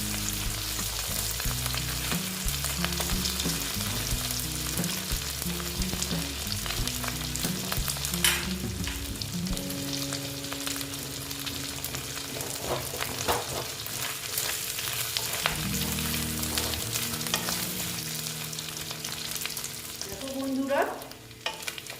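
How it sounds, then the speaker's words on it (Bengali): Loitta shutki, dried Bombay duck fish, fries crisply in a pan, a continuous close sizzle and crackle with occasional scraping of a spatula, with no voices. "আমি ভেজে নিচ্ছি কড়া করে"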